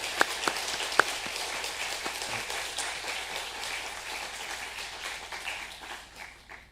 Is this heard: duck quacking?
no